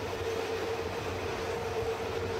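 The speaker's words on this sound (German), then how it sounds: "Gezogen werden die Züge hier hauptsächlich von den ABE 812 Schlepptriebwagen, auch bekannt als Allegra." A Bernina Railway train, likely hauled by an ABe 8/12 Allegra railcar, rumbles steadily over a curved stone arch viaduct, a continuous close rolling roar of wheels on rails with a faint sustained squeal.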